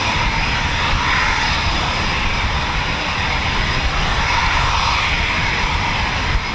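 Jet engine of a Eurofighter Typhoon FGR4 at an RAF station, a loud, steady roar with a broad rushing hiss that holds constant throughout with no pauses.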